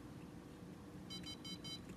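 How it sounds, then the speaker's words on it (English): A Mantis device gives a short electronic beep confirming its WiFi connection, heard as a faint, quick series of high tones over a steady background hum. "And that beep indicates that, yep, we're good"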